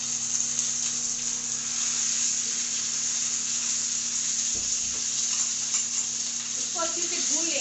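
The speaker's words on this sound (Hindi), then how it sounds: "ये 5 फोड़न का मसाला है जिसको हम तड़के में इस्तेमाल करेंगे।" Steady, bright sizzling of Bengali five-spice panch phoron tempering in hot oil, continuous and close, with a few faint stirring clinks near the end.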